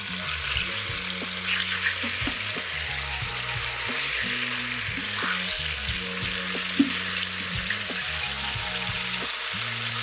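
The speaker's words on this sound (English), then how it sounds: "I want to brown them on all sides" Oxtails brown in a hot pan with a steady, dense sizzle that holds loud and even throughout, one brief sharp pop standing out, and no voices.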